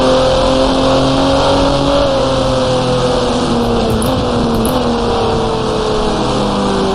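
A race car engine roars loud and constant in the GT Racing 2002 racing game, a steady high-pitched whine that dips and shifts pitch slightly as the car chases a Porsche.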